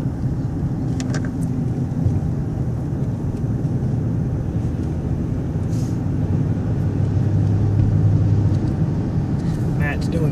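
Car driving along a coastal road between ocean and salt marsh, heard from inside as a steady low engine and road rumble, with people talking over it.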